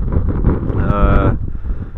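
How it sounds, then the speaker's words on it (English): Strong winter wind in the Snake River Valley buffets the microphone with a loud, low rumble, and a brief tonal moan rises out of the gusts midway. "The wind picked up."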